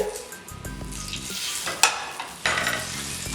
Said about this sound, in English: We got it going on. Listen out that sizzling.